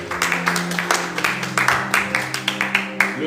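A church congregation clapping in steady rhythmic unison, a close run of sharp claps at an even beat with a low voice faintly underneath.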